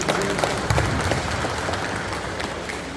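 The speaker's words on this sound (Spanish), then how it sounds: "Voy a dar un aplauso a los padrinos por esas bellas palabras." Wedding guests at a silver anniversary celebration in traditional dress in San Juan Mixtepec break into brief, steady applause for the godparents, a dense patter of many hands close by.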